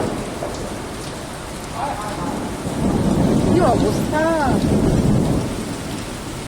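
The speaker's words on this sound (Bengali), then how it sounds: "বাবারে রেখে দিই, অসম্ভব বাজ পড়ছে, সাংঘাতিক" Heavy rain pours steadily, with deep rolling thunder rumbling through; a voice briefly exclaims over the storm.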